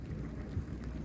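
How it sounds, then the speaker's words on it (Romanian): Light rain begins falling at an outdoor carp-fishing spot, a steady soft patter of drops with a faint low rumble underneath. "A început să ploaie."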